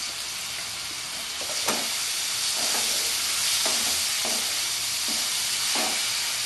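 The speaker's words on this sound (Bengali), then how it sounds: "বেশ ভালো করে ভাজবো।" Spices with chili and chili powder frying in hot oil in a pan for raw jackfruit and prawn curry, a steady bright sizzle with repeated scraping stirs at regular intervals, close and alone.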